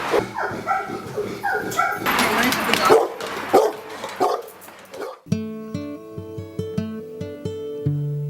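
Loud, close dog barking in quick repeated bursts, then the barking stops abruptly and a tonal musical sound takes over.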